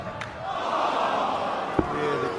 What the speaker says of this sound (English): Yeah, the groans from the crowd.